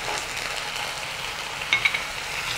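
Chili sauce, tomato ketchup and soy sauce for Manchurian being stirred in a frying pan, a soft continuous sizzle with a few faint scraping clinks near the end.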